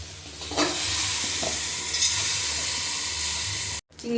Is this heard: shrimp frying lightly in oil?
yes